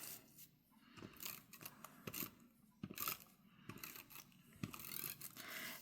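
Scissors cutting through paper for a handmade gingerbread-themed junk journal, a steady run of crisp, close snips and slicing strokes repeating every second or so, quiet and with no one talking.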